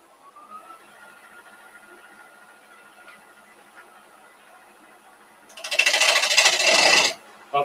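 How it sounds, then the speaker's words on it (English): Laburnum wood spinning between centres on a lathe, cut with a Robert Sorby 3/8 bowl gouge to round it off; after a quiet stretch a loud, dense rasping cut runs for about a second and a half, then stops abruptly. "I'm using my Robert Sorby 3/8 bowl gouge. I'm just going to get this rounded off."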